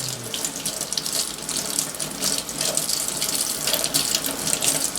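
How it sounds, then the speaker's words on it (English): Cold tap water runs steadily into a sink, splashing and gurgling as plastic parts are rinsed under the stream, close and fairly loud. "rinse them off with some cold water"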